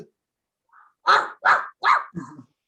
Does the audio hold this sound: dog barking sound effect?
yes